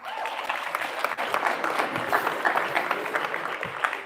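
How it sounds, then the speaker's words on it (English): A short burst of audience applause at a high school spring sports awards ceremony honoring a girls' track and field team, close, brisk clapping from a modest crowd lasting only a few seconds. "give them a round of applause"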